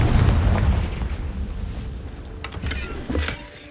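A Confringo blasting curse in Hogwarts Legacy goes off as a heavy, rumbling explosion that fades out, followed by a couple of sharper bursts, with no talking.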